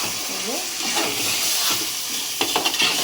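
Chicken angara frying over a high flame in a home kitchen, stirred steadily, giving a continuous broad sizzle with scraping clinks near the end; a faint voice may sit beneath.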